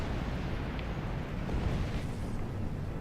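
Torpedo explosions in the Star Trek Online space combat game, a continuous heavy rumbling roar with a couple of faint bursts layered in, steady and loud throughout with no talk.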